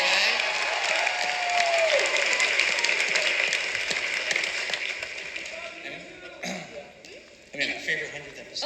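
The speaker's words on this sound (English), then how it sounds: "big round of applause for the 100th episode" A convention panel audience at San Diego Comic-Con 2015 claps and taps steadily for several seconds, with voices mixed in, before the applause thins out into scattered claps.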